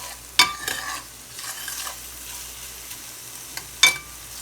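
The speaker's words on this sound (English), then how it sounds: "So we're gonna let this saute for about a minute and a half to 2 minutes." Onions and garlic sautéing in a pan for a vegan barbecue seitan dish, a soft low sizzle broken by a few sharp scrapes and clinks of a utensil stirring against the pan.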